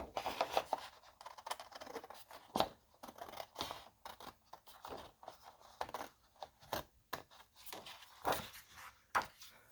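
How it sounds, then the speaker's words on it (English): Scissors cut through paper note pads in a string of quiet, close snips and crisp scrapes, with short pauses between cuts. "I'm just going to cut the whole thing."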